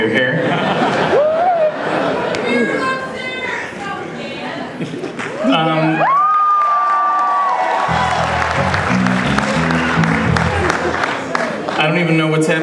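A concert audience at a show in Portland applauds and cheers, with a sustained whistle, scattered laughter and chatter running through the crowd noise throughout.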